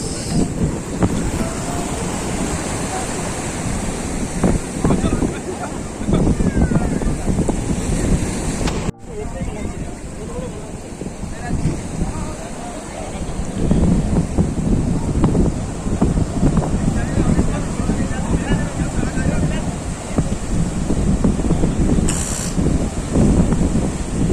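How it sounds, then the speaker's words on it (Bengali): Sea waves roll and break steadily onto the beach at Digha, a continuous loud surf wash with wind noise on the microphone, and people talk faintly now and then. "জলের এটা সুন্দর আসছে, হিল্লোলো তুলে কল্লোলে চলিয়া যায়"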